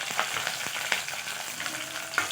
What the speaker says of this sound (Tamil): அதையும் எண்ணெயில் போட்டு வதக்கி எடுத்துக்கலாம்.